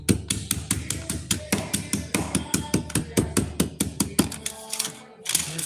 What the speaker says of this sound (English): They crimp it, then come back and tap it with a hammer.